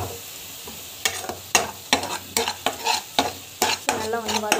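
Tomatoes sautéing in a pan, a soft sizzle under a regular rhythm of about a dozen scraping spatula strokes against the pan, close and fairly loud.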